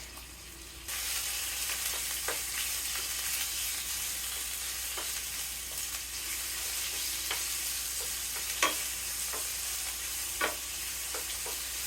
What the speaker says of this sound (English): add our pork and cook, stirring constantly